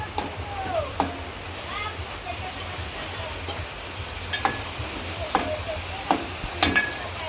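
Tomatoes frying and being stirred in a pan in a home kitchen, giving a steady soft sizzle with occasional sharp utensil scrapes and taps. A voice is faintly present at times.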